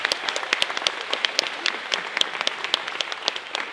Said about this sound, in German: kräftigen Applaus erstmal dafür,